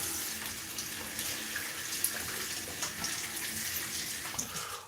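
Water runs steadily from a tap into a sink while something is rinsed off, a soft continuous splashing stream with small spatters and no talk.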